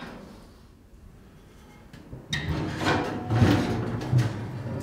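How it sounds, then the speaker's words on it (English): A heavy steel door on a Santa Maria grill pit swings open: silence, then a sudden close clank followed by scraping, grinding metal movement for a couple of seconds. "That is a heavy door."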